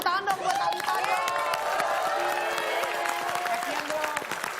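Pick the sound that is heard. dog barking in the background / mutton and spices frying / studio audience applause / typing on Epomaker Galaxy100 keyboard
studio audience applause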